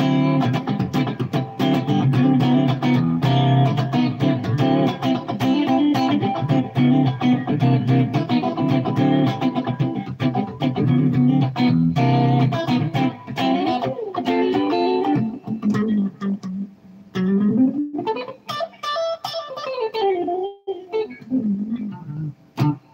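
A high-gain, distorted electric guitar plays loud and sustained through a Boss Katana amp, with a faint hum under the notes, ending in a sliding, bending phrase.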